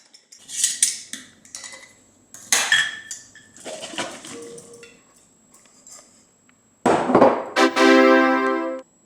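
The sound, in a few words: spatula scraping creamy dressing out of a mason jar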